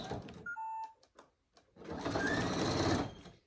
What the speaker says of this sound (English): I'm just going to single stitch right on that gap